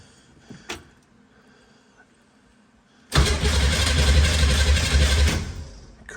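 A 1966 Corvair engine cranks on a rebuilt starter: a few seconds of quiet clicks, then a loud, steady churning crank that runs for about two seconds before fading out without the engine starting.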